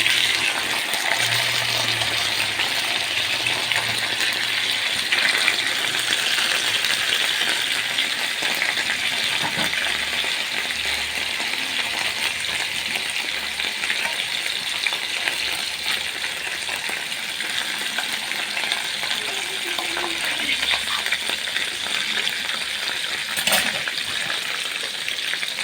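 Chicken thighs frying in melted fat in a pan for a chicken and zucchini tajine: a continuous, loud, close hiss and sizzle that holds steady for the whole stretch, with no talk.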